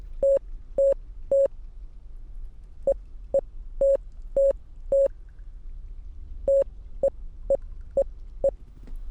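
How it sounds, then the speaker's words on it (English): A radio in a Roblox game beeps out Morse code as crisp, clean tones: a group of three, then five, then five more after short gaps, with dots and dashes set against a faint background hiss. "And now we got to listen to Morse code."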